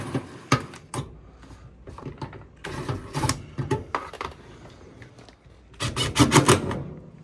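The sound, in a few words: driving screws back into a Samsung dryer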